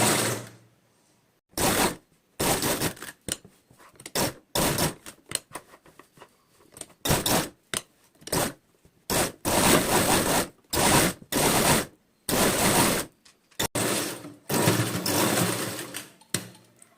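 Sewing machine stitching the slit border of a kurti, loud rapid bursts of stitching repeated in short runs with brief pauses between them.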